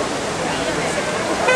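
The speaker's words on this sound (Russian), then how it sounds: "Просто цветные фонтаны." Steady splashing water from the Magic Fountain of Montjuïc in Barcelona at night fills the scene with a broad hiss, with faint crowd murmur behind it.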